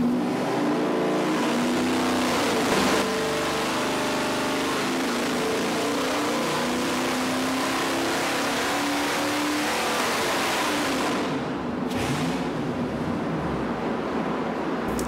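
A junkyard 5.3-litre L83 direct-injection V8 revs hard on a dyno, giving a steady loud roar that climbs in pitch and then cuts off near the end. No one speaks.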